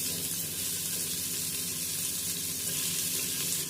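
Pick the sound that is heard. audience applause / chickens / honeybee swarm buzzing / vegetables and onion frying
vegetables and onion frying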